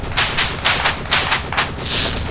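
Rapid automatic gunfire from the video game Infinite Ops, several loud bursts of fast shots with short gaps between them, close and dominant with no talking.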